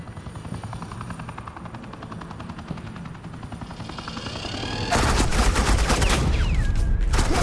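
Suppressing gunfire erupts in Batman: The Enemy Within as a dense, loud automatic burst over a steady helicopter-like drone, starting abruptly partway through and continuing to the end.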